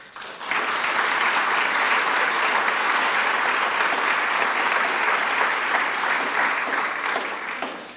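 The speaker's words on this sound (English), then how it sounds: "can we just give a round of applause for these teens today?" Sustained, loud applause from an awards-ceremony audience honoring teenagers, rising abruptly after a brief lull and holding a thick, even roar of clapping for about seven seconds.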